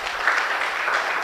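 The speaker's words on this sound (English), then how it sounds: "Let's give him a huge round of applause" Audience applause at a May Day lecture, a steady wash of many hands clapping close and fairly loud throughout the short moment, with no voices standing out.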